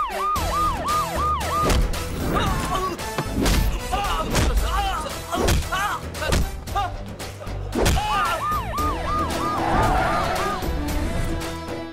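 Police sirens wail across the city in a Telugu action movie scene, their rising and falling tones sweeping loud and near at the start and again later, over a dense soundtrack with heavy thuds and traffic.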